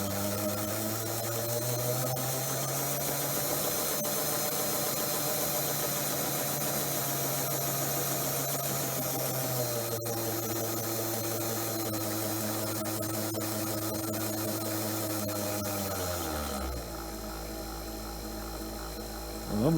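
A brass Williams O gauge Hudson model locomotive runs up on test blocks with a close, steady motor hum and mechanical whir that drops away near the end.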